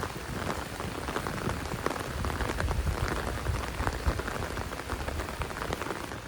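Rain falls steadily on a slippery hill road, a dense, even hiss of drops on the surface, close and continuous with no talking.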